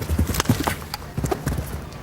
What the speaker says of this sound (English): Yeah, the horse is jumping really well.